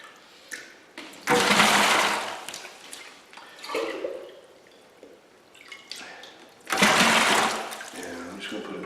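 Water is poured into a container before a bag of building mix is added on a house build. Two loud gushing pours stand out against quieter splashes and drips.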